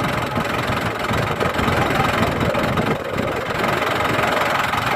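A tractor's 4,485 cc four-cylinder turbo diesel engine idles steadily up close, a continuous low rumble with a slight knocking texture and no pauses.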